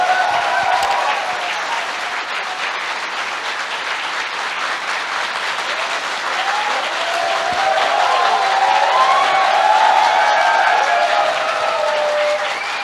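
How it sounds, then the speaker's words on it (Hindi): A large training-session audience gives a loud, sustained round of applause for a guru, a dense steady wash of clapping lasting well over ten seconds with crowd murmur and a few faint voices underneath. "मैं चाहता हूं गुरुजी के लिए एक जोरदार तालियां होनी चाहिए।"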